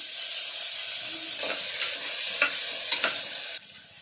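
Tomatoes sauté with ginger and garlic in a pan, a steady close sizzle punctuated by several spatula scrapes and clinks before the hiss suddenly quiets near the end, with no talking.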